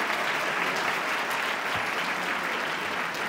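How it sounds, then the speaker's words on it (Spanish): Steady applause from a conference audience at an arts and humanities congress at a university in Puebla, dense and even clapping that holds at one level throughout without a pause. "Pues les pido por favor que brindemos un aplauso."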